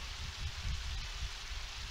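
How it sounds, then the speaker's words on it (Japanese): Heavy rain pours in the video game Undertale, a steady, fairly quiet hiss with faint low rumbling, heard without speech. "急に大雨降ってきたよ"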